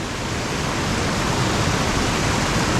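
High water churning through Cucumber Rapids on the river at Ohiopyle, with Cucumber Run pouring in; a dense, loud, unbroken roar of rushing water with no voices.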